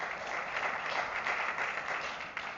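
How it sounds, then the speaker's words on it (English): Applause from an audience at a networking event, a steady, even wash of many hands clapping at moderate volume for the whole stretch, with no voices on top. "Let's give them a round of applause, please."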